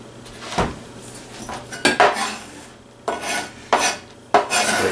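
A utensil scrapes a pecan mixture off a surface into a bowl in a kitchen, making rasping strokes and clinks in separate bursts, close and clear without voices.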